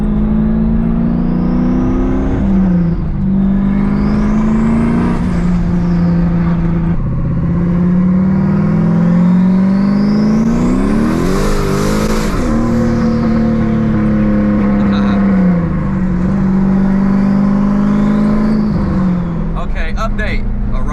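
Inside a big-turbo Camaro on the road, the engine drones loud and close, its pitch climbing and dropping through repeated gear changes, with high whistling sweeps rising alongside and people talking over it.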